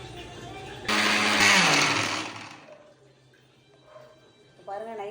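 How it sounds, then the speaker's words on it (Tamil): A kitchen blender grinds coconut, cumin and fennel into a paste, a loud whirring burst that winds down after a couple of seconds, followed by quieter clinks and handling sounds. "இப்போ தேங்காய், சீரகம், சோம்பு, இதை ஒரு பேஸ்ட்டாக நம்ம அரைச்சிக்கலாம்."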